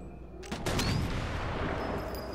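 Gunfire in the video game Sniper Elite 4: a loud burst of overlapping shots and booms starts about half a second in, followed by a dense, rumbling barrage that sustains to the end.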